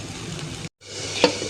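Masala sizzles and fries in a pan with dry chili powder as it is stirred, a steady close crackle with a brief silent gap midway and a sharp scrape near the end.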